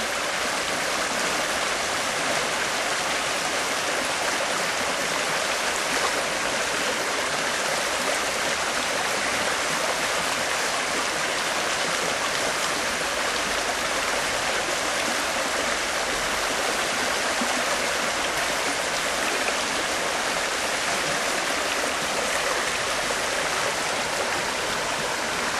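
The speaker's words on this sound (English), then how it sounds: "I'm going to very gently rinse the black sands off the top." A river stream rushes steadily and loudly around a gold pan being gently rinsed of black sand, a constant broadband wash of flowing water with no talk.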